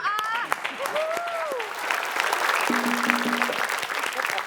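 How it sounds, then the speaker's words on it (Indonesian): Studio audience applause for a team at a televised quiz show, a dense steady patter of clapping filling the whole stretch, with voices and a shout rising over it at the start. "Boleh kita beri tepuk tangan untuk tim A."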